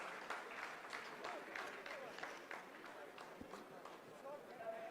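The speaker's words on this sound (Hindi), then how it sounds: "आप इस तालियों के गड़गड़ाहट को सुन सकते हैं जो कि सेकेंड हाइब्रिड फेज के कंप्लीट होने के बाद" Scientists at the ISRO control centre applaud during the Chandrayaan-3 landing, a steady wash of clapping from a crowded room that continues throughout with a few sharper claps standing out and faint voices beneath.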